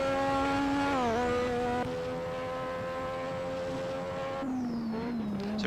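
A race car in Assetto Corsa winds up through its revs, the engine note rising and dipping as it accelerates and slows, a strong harmonic whine heard alone and fairly close.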